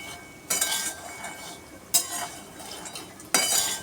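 Roasted peanuts with oil, salt and chili powder stirred in a wok: three distinct scraping sweeps of a metal spatula with brief rattling, close, separated by quiet pauses.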